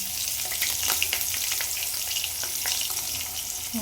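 Ginger and green chili crackle and sizzle steadily in hot oil for kara pongal, a dense hiss with frequent sharp pops and occasional stirring scrapes, close up and without voices.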